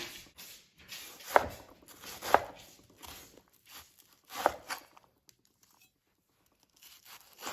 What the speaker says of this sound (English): I'm gonna cut in the opposite direction that I've been cutting